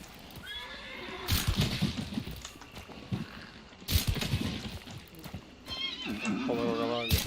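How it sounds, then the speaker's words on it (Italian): A horse in a hunting video game neighs in several loud whinnies among hoof clip-clops and thuds, the final whinny drawn out and shaky, with a voice talking over parts of it. "Povero cavallo."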